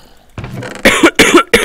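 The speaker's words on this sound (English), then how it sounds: "More coughing." A few loud, close coughs come in quick succession after a breathy throat rasp, each harsh burst separated by brief gaps.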